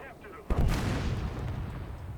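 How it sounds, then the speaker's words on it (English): A heavy gun blast in the War Thunder tank game, a single sharp boom followed by a long rumbling decay, loud and close. "Oh look, I got to use the little machine gun."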